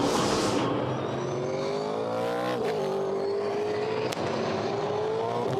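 A Supercars race car engine on board at turn 11, loud and close, its pitch sweeping down under braking and then climbing steadily as it accelerates out, with a faint tire squeal.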